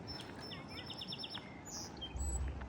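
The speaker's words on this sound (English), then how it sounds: "That bird" Birdsong rings out outdoors on a walk among tall trees in early spring, a few short, bright chirps and tweets repeating in a quick series over steady ambient background noise.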